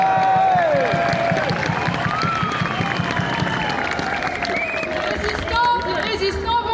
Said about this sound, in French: On peut l'applaudir et l'écouter.